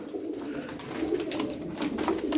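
A pigeon coos in low, soft repeated calls close by, over a noisy background hum.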